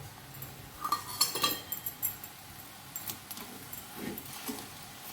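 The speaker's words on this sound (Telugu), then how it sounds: "ఆకుకూర మగ్గాక ఉప్పు కారం పసుపు వేసి కలుపుకోవాలి" Salt, chili powder and turmeric stirred into wilted amaranth leaves in a pot, with scattered clinks and scrapes of a metal spoon at an uneven rhythm, fairly quiet and close.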